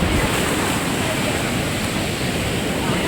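Rough, high sea surf at Manora Beach in Karachi roars in a dense, continuous wash of crashing waves and wind, loud and close with no pauses.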